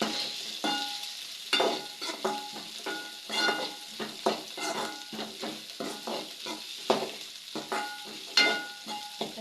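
Onions are sautéed in a pan for an onion and green chilli varuval, with a steady soft sizzle broken by repeated scraping and stirring strokes of a utensil against the pan, close by and without talk.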